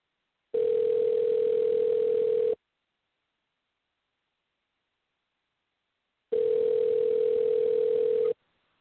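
Telephone ringback tone on a call placed from a radio show: two long, steady, identical buzzing rings with a long silent gap between them, clean and loud, no talking.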